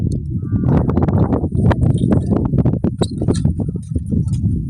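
Hooves clopping on a hard surface at an uneven walking pace, close by, with faint clinks and a bird chirping now and then.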